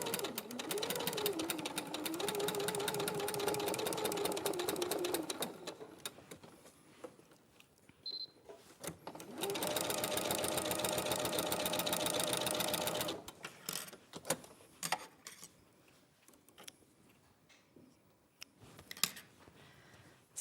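A sewing machine bastes fabric inside a quarter-inch seam, running in two steady bursts of rapid stitching separated by pauses and scattered handling clicks.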